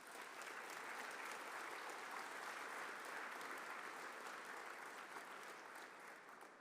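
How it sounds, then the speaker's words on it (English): Steady, sustained applause from an audience at an engineering school capstone awards presentation, a dense wash of many hands clapping that holds evenly for several seconds and fades slightly at the end. "Can we give them a round of applause?"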